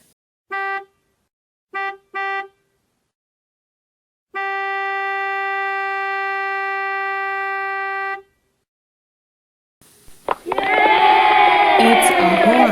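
A vehicle horn gives three short toots and then one long sustained blast, close and loud, followed by a burst of busy street or crowd noise.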